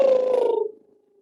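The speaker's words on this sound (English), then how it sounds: "or do the motorboat lips" A motorboat lip trill used as a vocal warm-up, a single steady buzzing flutter of the lips with a pitched voice that lasts under a second and then fades out.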